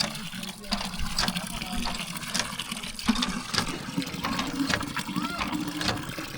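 Water from a newly installed village hand pump in Sindh, Pakistan gushes and splashes into a clay pot, a steady filling rush with sharper spurts throughout, under nearby talk.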